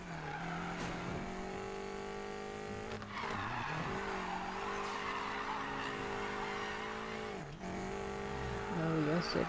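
A BMW X6 M drifting in Need For Speed Payback, tires skidding and squealing over a steady, loud engine drone that holds for most of the stretch with brief dips and a rising rev near the end; a voice talks over it.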